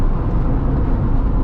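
A Honda Integra engine revving, a loud, dense, roaring drone that holds close and steady for a moment with no break.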